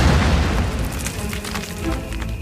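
A single loud grenade blast opens with a heavy low boom, then rumbles and crackles as it fades, with a few scattered pops afterward.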